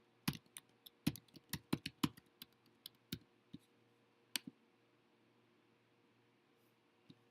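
Keys clatter on a computer keyboard as a username and password are entered, with a quick burst of close, crisp clicks that thins into a few scattered taps before a long pause and one last keystroke.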